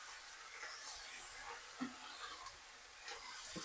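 Masala for jackfruit pulao sizzles softly in a pan, a faint steady hiss and crackle with an occasional light knock from stirring, no voices over it.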